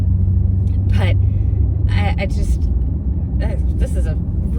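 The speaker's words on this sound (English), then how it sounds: "I love the sound of the V8. This thing is loud." A BMW M8 Competition V8 gives a steady, loud, deep rumble while driving, running continuously beneath a voice talking inside the cabin.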